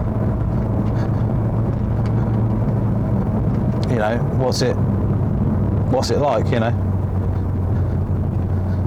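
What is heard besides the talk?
car engine and road noise while driving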